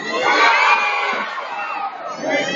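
A crowd at a local pageant cheers and shouts loudly, a continuous roar of high voices and whoops sustained throughout.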